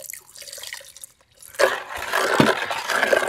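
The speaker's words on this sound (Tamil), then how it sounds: "கொஞ்சம் தண்ணி லைட்டாக ஊற்றிப்போம்." Water poured lightly into homemade juice, a quiet trickle that swells at about 1.6 seconds into a steady, nearby splashing pour with a brief louder splash midway.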